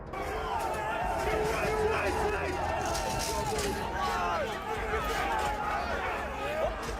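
A crowd of rioters storming the US Capitol on January 6th, a dense roar of shouting voices and babble with scuffling movement, loud and continuous throughout.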